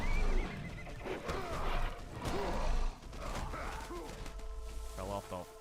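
A horse in the video game Castlevania: Lords of Shadow whinnies and snorts amid game music and effects, fairly prominent over a busy mix, with a person talking over parts of it.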